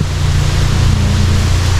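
Loud, steady roar of strong wind buffeting the microphone, a continuous low rumble with broadband hiss and no pauses.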